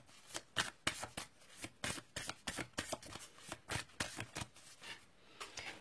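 Tao oracle cards are shuffled by hand in a steady run of soft, quick riffling flicks and slaps, close and fairly quiet, with no one talking.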